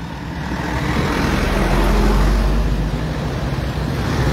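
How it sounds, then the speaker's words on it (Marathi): Heavy road traffic passes on a busy road in Porvorim, Goa, a continuous loud low rumble of engines and tyres that swells around the middle. "आता पळया हो फूल हेवी ट्रॅफिक येता"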